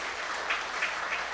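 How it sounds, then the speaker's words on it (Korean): Church congregation clapping during a Sunday service, a soft, steady patter of many hands at moderate distance, even and continuous without a clear peak. "박수 한번 좀 보내주시기"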